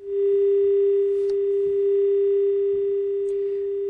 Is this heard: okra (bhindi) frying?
no